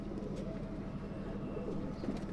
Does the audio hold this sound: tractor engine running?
no